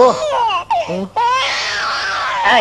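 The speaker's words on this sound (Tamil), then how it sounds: "அண்ணே, குழந்தை அழுகுது." A baby cries in a Tamil comedy film scene, with wavering wails broken by short pauses, loud and close throughout.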